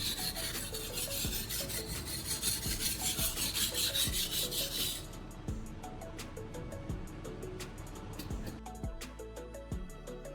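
A blade is drawn repeatedly across a coarse 240 grit whetstone, giving rhythmic scraping strokes about every second, with a denser rasping wash in the first half and quieter, distinct rubs after, close and fairly soft.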